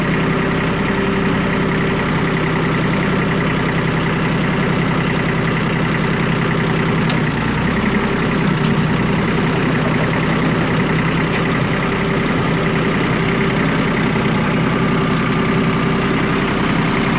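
A Yanmar F165D compact tractor engine runs steadily and loudly at close range, a continuous diesel drone with a slight knocking texture, rising briefly in load midway as the loader bucket is worked.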